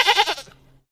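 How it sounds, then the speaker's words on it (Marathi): A goat gives a single short, wavering bleat, close and clear, which cuts off into silence. "ही आहे शेळी. इंग्रजीमध्ये याला गोट म्हणतात."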